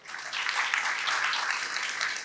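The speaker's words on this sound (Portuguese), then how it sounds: "Queria uma salva de palmas aqui para o pessoal." Audience applause for a panel at a Japanese restaurant supply-chain talk, a dense, steady wash of many hands clapping together for a couple of seconds with no talk over it.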